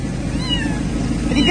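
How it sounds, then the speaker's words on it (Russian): A kitten in a pet carrier meows in short rising cries near the end, over steady low background noise in a garage area. "Так, котенок в переноске."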